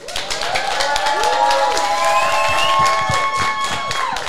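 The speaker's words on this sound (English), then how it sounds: "Yes, clapping." A live talk-show audience claps and cheers with crowd noise through the whole stretch, while tonal sounds and voices carry on over the top.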